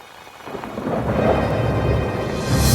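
Storm rain pours down harder with gusting wind, a dense hiss of falling water swelling steadily louder, with a low rumble underneath and no voices.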